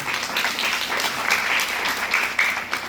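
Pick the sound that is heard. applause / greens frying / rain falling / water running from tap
applause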